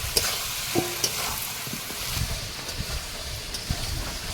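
Potatoes stirred into hot oil with salt, turmeric and chili powder in a pan for an outdoor Bengali chicken and rice cooking session: a steady close sizzle and frying hiss with scraping stir strokes, no talk.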